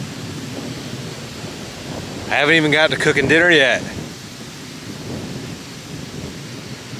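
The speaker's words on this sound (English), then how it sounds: "It's storming a little bit" A low, steady rumble of thunder from a thunderstorm during overnight truck camping, with soft rain-like background noise, while a person speaks briefly in the middle.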